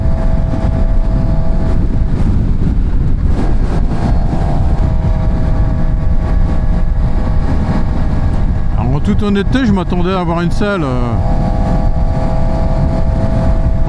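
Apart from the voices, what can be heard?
QJMOTOR SRK 421 RR four-cylinder motorcycle engine while riding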